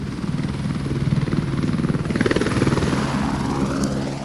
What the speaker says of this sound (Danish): Ja, det er et helikopter